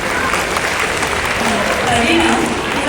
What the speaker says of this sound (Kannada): ಮಕ್ಕಳಿಗೆ ಮತ್ತೊಮ್ಮೆ ಜೋರಾದ ಚಪ್ಪಾಳೆಗಳು